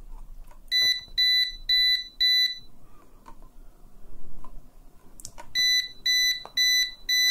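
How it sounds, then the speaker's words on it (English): Beeping from a UNI-T AC voltage detector comes in two bursts: four quick shrill electronic pulses, a pause with faint handling noise, then four more evenly spaced beeps, loud and close. "When you're close, it is beeping."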